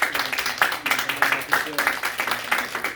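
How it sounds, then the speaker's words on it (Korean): Church congregation clapping during a Sunday service, a patter of hands with a loose rhythmic pulse that runs beneath a voice and a low sustained tone. "늘 건강하시라고 박수로 축하드립니다."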